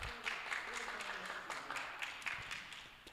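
Crowd applause at a FIRST LEGO League state tournament in Arizona, a dense wash of many hands clapping at moderate distance, with some voices mixed in.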